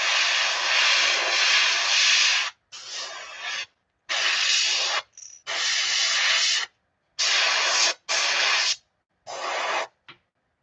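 Airbrush spraying transparent black paint onto a light bluegill swimbait lure, loud hissing bursts of varying length broken by short silences, alone with no talk.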